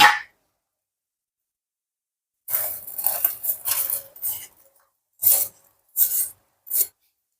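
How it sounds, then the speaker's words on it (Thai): Mung beans are tipped into a pot of boiling ginger syrup. A close series of short, dry scraping and rasping bursts sounds like a spoon dragging across a bowl, with no talking. "เราก็จะใส่ ถั่วเขียวที่เราเตรียมไว้นะคะลงไปได้เลยค่ะ"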